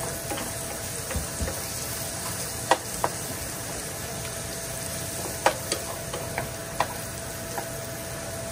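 Onions sauté in a pan with a constant sizzling hiss at close range, broken by occasional sharp taps and scrapes of a utensil against the metal, and nobody speaks.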